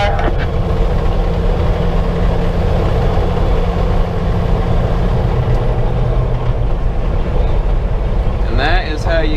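A big heavy-haul truck's engine roars loudly and steadily as it accelerates past, with dense low rumble and road noise throughout and a brief high squeal near the end.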